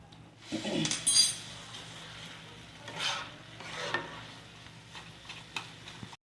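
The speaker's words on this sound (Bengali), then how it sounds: "আলুগুলো একটু আমি ম্যাশ করে দিচ্ছি।" Boiled potatoes are mashed into a banana flower curry with a utensil in a pot, giving soft squelching pushes and a few light metallic clinks, close and fairly quiet, with gaps between strokes.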